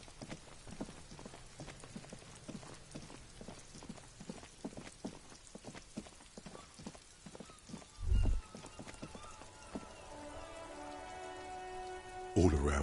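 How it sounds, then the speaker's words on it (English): Rain falls on the city of Revachol in the video game Disco Elysium, a soft, steady patter of drops and drips on surfaces with scattered sharper taps, fairly quiet, ending in a brief louder thump and a tonal game sound. "All around you, rain falls on the great city of Revachol."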